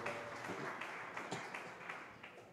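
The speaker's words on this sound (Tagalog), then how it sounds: "pumalakpak ng malakas sa ating mahal na Panginoon" A church congregation claps together in praise of the Lord. The dense, steady patter of many hands runs for a few seconds at moderate volume, with no voices over it.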